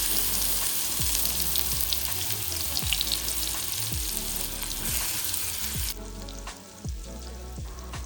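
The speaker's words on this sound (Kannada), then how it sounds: "ಬಟರ್ ಹಾಕಾದ್ಮೇಲೆ ಆನಿಯನ್ ಚಾಪ್ ಮಾಡಿರೋದನ್ನ ಹಾಕೋಣ" Chopped onion sizzles loudly in hot butter in a pan for paneer butter masala, a steady frying hiss broken by the repeated scrape of a spatula stirring, quieter for the last couple of seconds.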